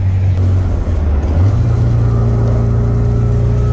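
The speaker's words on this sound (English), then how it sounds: "a little bit of third gear, floored" A Nissan S13 under restoration accelerates at full throttle in third gear, its engine droning loudly and climbing steadily in pitch from inside the car.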